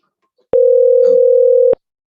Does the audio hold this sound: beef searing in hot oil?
no